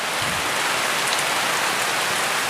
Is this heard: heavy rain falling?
yes